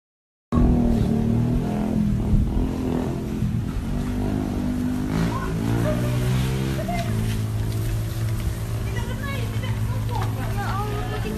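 A motorcycle engine starts up abruptly and revs as the bike rides off, its droning tone shifting pitch as it pulls away, while muffled voices sound underneath during an approaching whirlwind.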